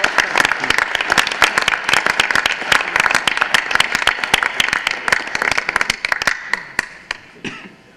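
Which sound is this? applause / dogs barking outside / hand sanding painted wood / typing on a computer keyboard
applause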